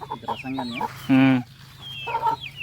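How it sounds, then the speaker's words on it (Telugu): A rooster nearby clucks and crows in short bursts, including one loud, harsh call in the middle. "ఏంటి పుంజు ఇది"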